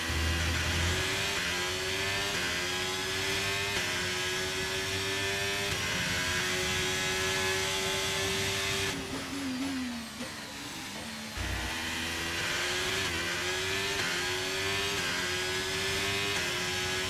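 An F1 race car engine in the F1 23 racing game holds a steady high whine through a lap, dipping briefly as it shifts down and revs back up, loud and continuous with no talk.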